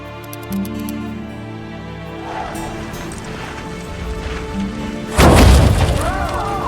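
A ballista bolt launched in The Witcher 2 lands as one loud, heavy booming thud near the end, rising out of a steady bed of game ambience and quiet dialogue.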